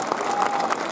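A crowd at an Athens rally against the citizen card claps steadily and fairly close, with a dense, even wash of applause and faint voices mixed in.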